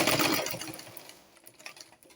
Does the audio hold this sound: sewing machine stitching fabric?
yes